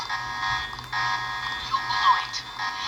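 An alarm in the PS2 video game Deus Ex: The Conspiracy, a steady electronic tone held for several seconds at moderate loudness, with faint game sounds underneath.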